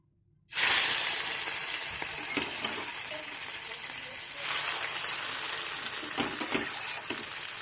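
Prawns hit a hot pan and break into loud, steady sizzling and spitting frying that continues throughout, with a brief surge partway and faint scraping stirs near the end.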